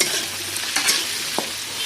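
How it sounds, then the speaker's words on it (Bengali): Mixed vegetables fry in a pan with salt and turmeric, giving a steady close hiss broken by a few soft stirring scrapes. "একটু ভেজে নেব। অল্প করে নুন দিয়ে দিচ্ছি, অল্প একটু হলুদ দিয়ে দিচ্ছি।"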